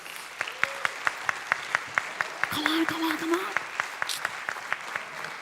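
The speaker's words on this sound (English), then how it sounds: "So please give them a round of applause." Rhythmic applause from a WordCamp Europe 2023 conference audience, a steady beat of claps with a blended crowd clatter underneath, while a voice speaks briefly over it near the middle.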